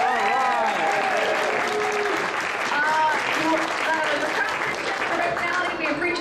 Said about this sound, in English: give a round of applause for the Viking